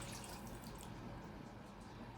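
Oat milk pours into a pan of butter and sugar on a stovetop set to medium heat, a steady soft liquid splash and trickle lasting about two seconds, close and continuous with no talking.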